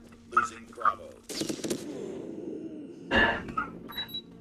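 Magnum gun fired in a slums-map multiplayer shooter game, several sharp loud shot bursts spaced across the moment, with voices talking in between.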